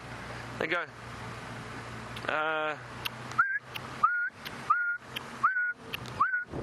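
A person whistles an imitation of a black-backed puffback's call: five short, sharp rising notes repeated at an even pace, following brief speech and a couple of sliding whistles.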